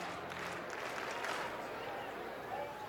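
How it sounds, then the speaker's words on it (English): Giants fans applauding and cheering in a baseball stadium, a distant, steady crowd roar that sits under play-by-play commentary. "getting a big round of applause from some Giants fans down there"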